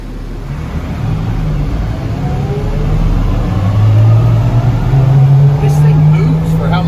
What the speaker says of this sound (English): I'm driving a fucking MRAP.